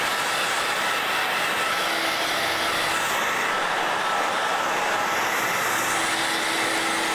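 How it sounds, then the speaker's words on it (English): A hair dryer cranked to high blows over freshly painted areas of a Halloween latex mask, making a steady, unbroken whooshing roar that holds constant throughout without talk. "Now I'm going to crank this hair dryer up."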